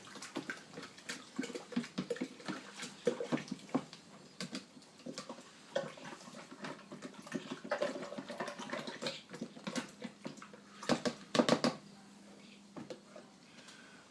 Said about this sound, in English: dissolve that molasses into that water